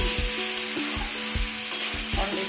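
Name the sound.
spiced meat frying and being stirred in a pan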